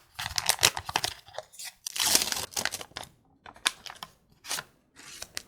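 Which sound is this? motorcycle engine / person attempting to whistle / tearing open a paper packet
tearing open a paper packet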